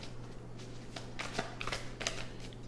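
A deck of playing cards being shuffled, several quick riffling bursts close up against a faint steady hum, quiet and without speech.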